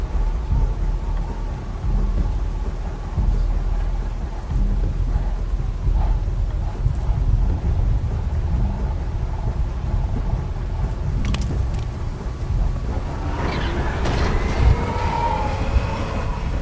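A thunderstorm in a zombie-survival adventure game: a continuous low, heavy rumble with rolling thunder, and strained metallic creaking and whirring rising near the end.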